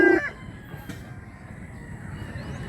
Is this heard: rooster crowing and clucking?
yes